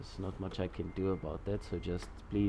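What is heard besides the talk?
None of the usual background noises is heard.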